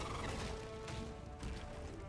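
A giant bird creature squawks in the Lost Ark video game, a loud gobbling, fowl-like call that runs continuously over dense game noise, with no talk.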